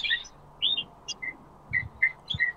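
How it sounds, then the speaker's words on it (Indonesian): A bird chirps near a school in short, bright, whistled bursts, several separate calls spaced unevenly over a couple of seconds, fairly close and clear against a quiet background. "Itu burungnya siapa itu bunyi?"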